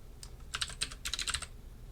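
Quick bursts of keystrokes on a computer keyboard while code is written during a programming lecture, two short clusters of clicks close to the microphone over a low room hum, with no talking.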